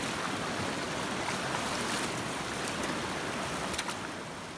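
Cold winter river water rushes steadily at a river crossing on a jungle trek near the Indo-Nepal border. It makes a loud, unbroken broadband roar with no voices.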